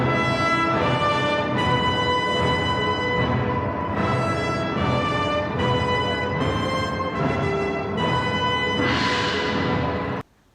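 Original orchestral music cue from the film Mothra vs. Godzilla, rich sustained harmonic chords swelling and shifting in repeated phrases, loud and full for about ten seconds before cutting off abruptly.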